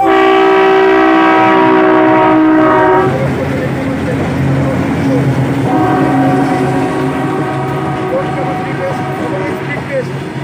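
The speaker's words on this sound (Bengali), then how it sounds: "এই মুহূর্তে প্রবেশ করলো দ্রুত গতিতে গাড়ি একদমই ডবল ডিজেল লোকোমোটিভ" A loud double diesel locomotive train roars past close by on the Nasipur rail bridge, its horn blaring at the start before the heavy rumble and clatter of the wagons carry on.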